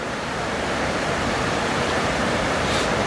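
Tidal water flows at Maristow Creek, a river inlet, as a steady, loud, continuous rushing wash with no breaks and no voices.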